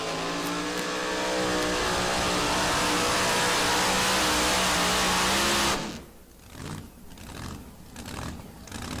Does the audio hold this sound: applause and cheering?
no